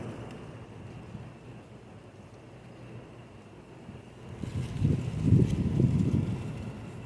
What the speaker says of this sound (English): The wind in the corn.